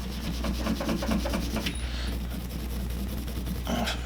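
A small brush scrubs grime off a Keltec PMR30 .22 WMR pistol, with rapid, even back-and-forth bristle rubbing strokes close up, pausing briefly partway through.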